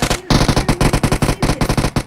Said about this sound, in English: We can see gunfire from N8 there to 4PF, and they are getting pushed.